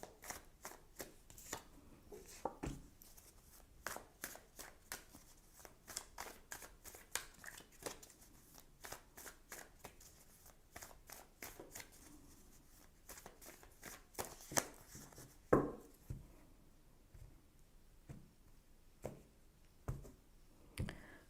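Oracle cards shuffled by hand for a tarot reading, producing quiet, rhythmic flicks and riffles close up, with occasional louder taps and slaps of the deck over a soft, quiet background.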